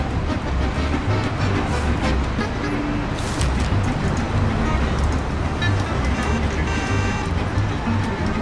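An old, battered car driving in the video game Mafia, with a continuous rumbling engine and road noise steady throughout, loud and close.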